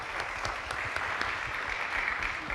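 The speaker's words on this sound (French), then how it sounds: "Les amis, on peut s'applaudir encore bien fort," Studio audience applauding steadily on a French TV entertainment set, a dense, even wash of many hands clapping close and sustained throughout, with no voices over it.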